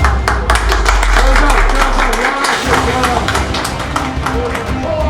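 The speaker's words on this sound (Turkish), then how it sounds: "Alkışlar." An audience claps steadily through a backgammon (nard) tournament award ceremony in Moscow as placings are announced, with dense hand-clapping and voices mixed in throughout.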